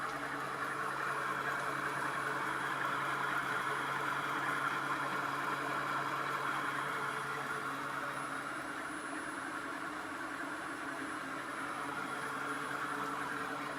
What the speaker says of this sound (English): We set the speed in Mach4 jog mode at 3000 RPM and started the spindle.